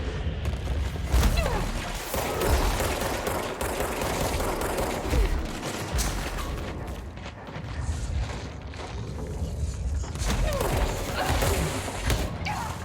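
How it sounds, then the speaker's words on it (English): Heavy incoming gunfire mixed with crashing rocks and flying debris in the video game Control, a dense, chaotic barrage of bursts and impacts that swells and fades throughout. "There's a lot of incoming gunfire and just rocks, chunks of material coming in."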